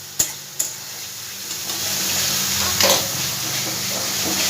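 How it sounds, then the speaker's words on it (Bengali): Spice paste with Kashmiri chilli powder frying in oil for a bitter gourd (korola) dish, a steady soft sizzle that builds after two sharp knocks at the start, close and alone without talk. "এবার সব মশলাগুলো খুব ভালো করে আমি ভেজে নেবো"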